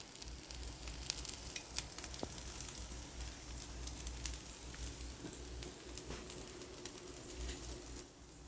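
Kattu kambu millet dosa sizzles in oil on a pan, a faint steady frying crackle with small pops and light stirring scrapes, no voice heard.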